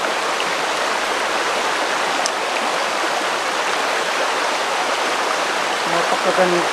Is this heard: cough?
no